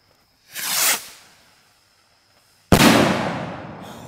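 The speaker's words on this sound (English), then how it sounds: "Here goes another salute moonshot rocket. This should be loud." A salute moonshot bottle rocket whooshes up with a brief rising hiss, then after a pause a sharp, loud report bursts and rings out as it fades.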